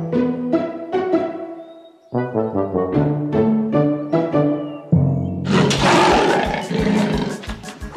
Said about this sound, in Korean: 호랑이가 비명을 지르며 앞발을 쭉!